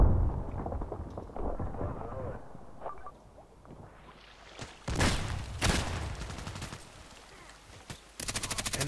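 Gunfire in the online shooter Contract Wars: scattered sharp shots and short automatic bursts, some close and loud, others more distant, with a dense rapid burst near the end.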